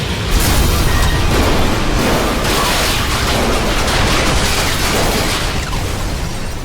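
A dense, continuous barrage of game gunfire and explosions, loud and unbroken throughout, with no talking.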